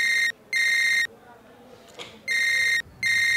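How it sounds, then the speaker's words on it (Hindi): A phone rings with an incoming call, a bright electronic tone sounding in long repeated bursts separated by short gaps, loud and close, with a faint voice murmuring in one gap. "आदे मेरी बीवी का भी फोन आ रहा, देख कट कट।"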